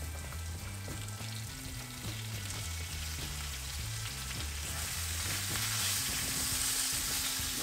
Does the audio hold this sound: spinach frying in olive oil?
yes